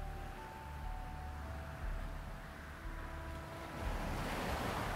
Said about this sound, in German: Du hörst die Wellen